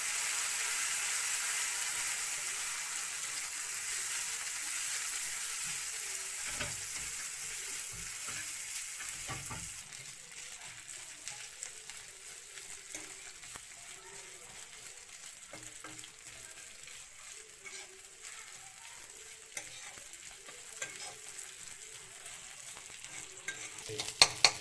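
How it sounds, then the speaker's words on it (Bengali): Soaked rice fries in hot oil in a pan, giving a steady bright sizzle with stirring scrapes throughout, the crackle easing slightly midway before a few sharp clatters at the end; no voices. "ভিজানো রাখা চালগুলো দিয়ে দিই তেলের মধ্যে। ভালো করে ভাজতে হবে চালটা।"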